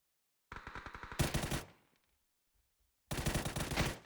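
Rapid automatic gunfire from the PUBG battle royale game, loud and close: a fast rattling burst, a heavier volley with a fading tail, a pause of near silence, then another sustained burst.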